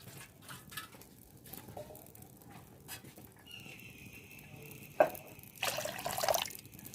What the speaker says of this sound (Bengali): একটু বাটিটা ধুয়ে সামান্য জল দেব